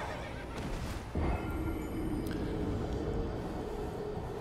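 Horse whinnying in Elden Ring, heard against a loud, steady rumble of game background noise, with a sharp accent near the start.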